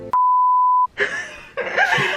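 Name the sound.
camera beeping before cutting off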